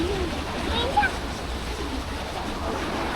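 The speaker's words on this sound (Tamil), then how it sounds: "எவ்வளோ தண்ணி போகுது பாரு." Water flows out of an opened dam, a broad continuous rushing roar heard from a distance in an open hilly setting, steady throughout with faint voices underneath.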